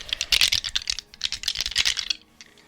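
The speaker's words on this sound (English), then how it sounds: "Like all my dice sounds." Dice clatter and roll on a tabletop in a quick run of sharp, close clicks and rattles lasting about two seconds, then stop.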